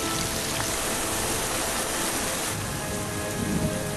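Heavy monsoon rain pours down steadily in India, a dense, continuous hiss of drops on surfaces with low rumbling underneath, loud and unbroken throughout.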